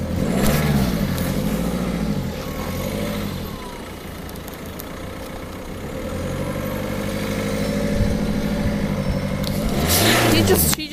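A car's engine idles and then revs as the car pulls away, rising and falling over about eleven seconds, with people talking nearby.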